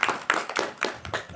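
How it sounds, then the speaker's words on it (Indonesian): Hand clapping in a small group during an online-learning interview, a handful of sharp, uneven claps spaced across a moment, fairly close and moderately loud with no talking over them. "Oke, tepuk tangan"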